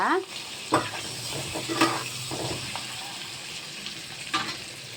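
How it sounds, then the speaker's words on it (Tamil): Boiled eggs coated with salt and turmeric fry in hot oil for egg thokku, a steady close sizzle with a few soft clinks of a spatula against the pan. "அவிச்ச முட்டையில் கொஞ்சம் உப்பு, அப்புறம் கருப்பில் கொஞ்சம் மஞ்சள் தூள் போட்டு எண்ணெயில் போட்டு பரட்டிக்கிட்டு இருக்கேங்க"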